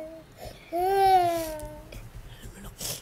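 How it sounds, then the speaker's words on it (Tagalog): A youngest child cries in one drawn-out, wavering wail that rises and then fades, heard up close over a murmur of background noise. Softer sounds follow it. "Ito, yung bunso niyo, nyo, umiiyak, oh."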